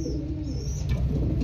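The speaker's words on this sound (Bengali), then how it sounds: "বাবু লাইনের কবুতর বা এই যে এটা হলো বাবু লাইনের নর" Babu line high-flyer Giribaz pigeons coo in low, steady rolling tones that run continuously through the short stretch, fairly close, with no talking.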